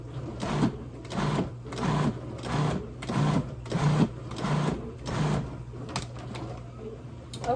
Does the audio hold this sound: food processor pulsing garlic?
yes